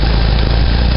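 A Model T Ford engine putters just above idle while the car drives at about 25 mph, a loud, close, steady low rumble with an even chugging texture throughout the short moment.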